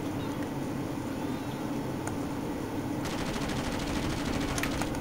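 Rapid automatic gunfire in Far Cry, a fast stream of shots fading in and growing denser and louder partway through, with some vertical cracks over a steady low rumble of game ambience.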